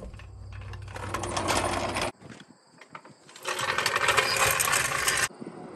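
A ratchet tightens axle bolts on a Lippert r-pod trailer frame with a torsion axle, two long loud bursts of fast mechanical clicking and whirring separated by a short pause.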